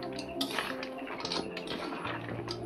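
Gaja pastries stirred in sugar syrup in a metal pan, brisk clinks and scrapes of a spoon on metal with a thick bubbling undertone, close and without talk.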